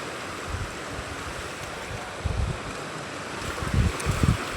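Sea waves roll in at high tide, a steady wash of surf over wind noise with a few heavier low swells breaking nearby.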